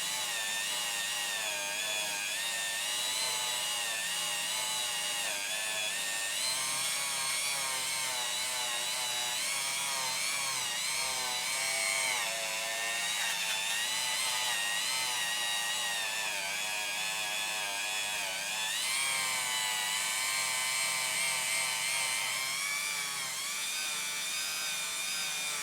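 A motorcycle exhaust pipe has scratches buffed out by an electric polisher on a low speed setting, a continuous whirring drone with a slight wavering pitch that runs steadily and close throughout.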